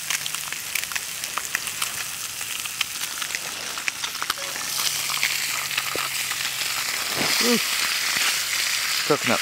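Brook trout fillet frying in a small pan outdoors on a snowboarding trip, a soft steady crackle and sizzle that grows louder partway through, with faint voices nearby.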